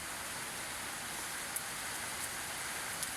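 Rain falls steadily outdoors, a faint, even hiss with a few small drips or taps, and no one speaks.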